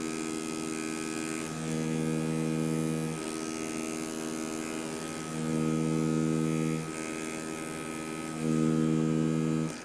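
A tattoo machine buzzes steadily in a dry lining demonstration, running with a strong electric hum and bogging down in three louder, heavier stretches before easing back to its lighter pitch, with no talking.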